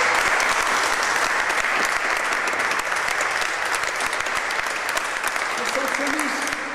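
Concert audience applauding a choir after an Ave Maria, a dense sustained ovation of many hands, loud and even throughout, with a faint voice murmuring beneath it near the end.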